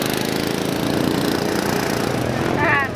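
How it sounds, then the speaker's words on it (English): Engines of a Honda Grom and a mini bike race on a concrete course at a Harley-Davidson dealership event, a loud, continuous buzzing drone close by with a brief rise in pitch near the end, crowd voices faint beneath. "We got a Honda Grom versus a real mini bike."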